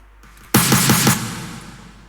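A burst of rhythmic claps in a dense electronic mix, four quick hits over a bright swelling wash that slowly fades.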